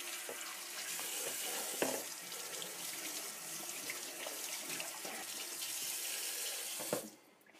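Squid rinsed under a running kitchen tap, a steady close hiss of flowing water with occasional splashes and handling knocks, cut off abruptly near the end.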